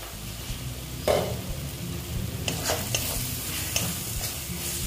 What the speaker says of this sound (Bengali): আমি এটা কষিয়ে নেব